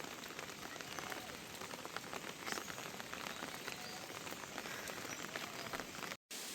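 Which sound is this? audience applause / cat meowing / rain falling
rain falling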